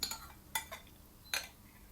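A utensil scrapes and clinks against a pan while pumpkin halva is stirred, three distinct sharp strokes separated by quiet pauses, faint and close.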